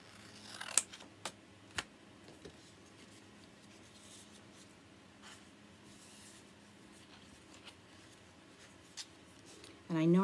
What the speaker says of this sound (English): Okay, let me cut this.